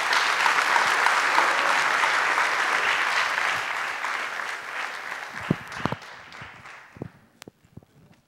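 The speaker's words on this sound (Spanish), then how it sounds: "Así que, gran aplauso." An audience at an astronomy seminar breaks into dense, loud applause that holds steady for several seconds, then thins out into a few last scattered claps.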